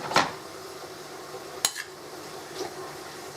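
A spoon scrapes and knocks against a mixing bowl as nut roast ingredients are stirred together, giving a few sharp clinks and taps spread over quiet, faint background noise.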